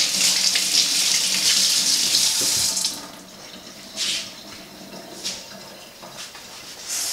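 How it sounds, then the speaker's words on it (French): A kitchen tap runs loudly while hands are washed during home cooking, a steady gush for about three seconds, then it stops, leaving a few short splashes and drips. "Je vais me laver les mains."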